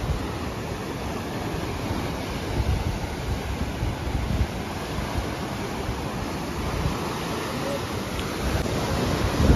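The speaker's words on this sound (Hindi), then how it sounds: "ब्रॉन्टी बीच इस जगह का नाम है।" Ocean surf breaking at Bronte Beach in Sydney at sunrise, a steady close wash of waves with wind rumble, rising slightly toward the end, no voices.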